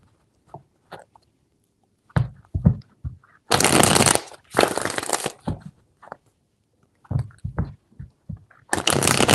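Tarot cards being shuffled by hand in several separate bursts, each a loud, dense riffling flutter lasting about a second, with lighter taps and card handling between them. No talking.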